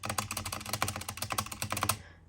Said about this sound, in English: it was a nice starter mechanical keyboard. It's got Halo True switches